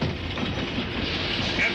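A train rolls past in an Old West setting, a steady, loud, broad rumbling clatter that holds evenly throughout without a break.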